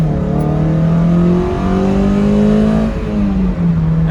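Toyota MR2 Spyder accelerating hard at wide-open throttle in first gear on a slight downhill, engine note climbing steadily in pitch with a brief dip near the end, loud and close from inside the car with no talking.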